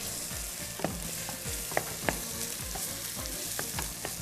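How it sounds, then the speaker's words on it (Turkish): Bacon with black pepper sautés in a pan, giving a steady sizzle with repeated scraping stirs, close and clear, no voices. "Beraber güzelce bir Şöyle kavuralım."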